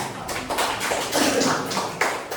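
Classroom applause: a short burst of students clapping together in quick, uneven slaps, fairly close and steady for a couple of seconds, with no talk over it.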